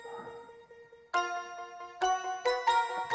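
A bright bell-and-piano hook from a euphoric dance track plays alone, a soft chime giving way to ringing layered chords struck in a bouncy rhythm.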